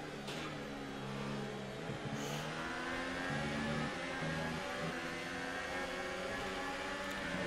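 Renault Formula 1 engine in the F1 2018 racing video game, a sustained high-pitched whine that climbs and drops through gear changes while accelerating, steady and prominent with no talk.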